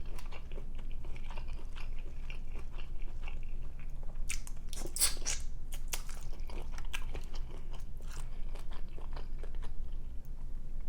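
Close, wet chewing and crunching of shrimp from a king crab seafood boil, a steady stream of soft bites and smacks with a sharper crunch near the middle.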